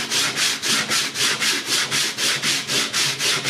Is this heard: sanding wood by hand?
yes